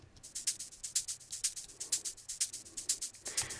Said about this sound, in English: And there's another shaker as well.